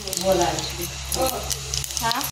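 Cumin seeds, chili powder and curry leaves crackle and sizzle steadily in hot oil for dal tadka, with someone speaking over the frying and a sharp cutoff at the end.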